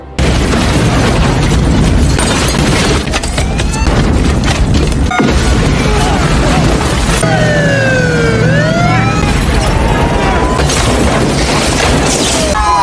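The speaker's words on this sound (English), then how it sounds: "As armed forces approach, massive explosions destroy the area." Heavy booming blasts and dense rumbling fill the scene continuously, with whooshing sweeps and siren-like wails layered over the loud chaos.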